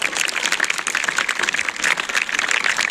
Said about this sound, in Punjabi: ਮਾਰ ਦੋ ਤਾੜੀਆਂ